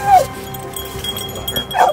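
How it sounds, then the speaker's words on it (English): A scarred bear-hunting hound gives two short, high yips or whimpering barks, one at the start and one near the end, close to the microphone with faint background noise between. "She is a scarred up bear dog, is what she is."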